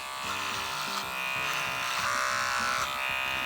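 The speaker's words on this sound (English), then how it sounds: "So I'm going to use my Clipperman jewel clippers here to tidy up those feathers next." Clipperman Jewel electric clippers trim the feathers on a horse's legs with a close, steady buzzing whir that shifts slightly in pitch as they cut.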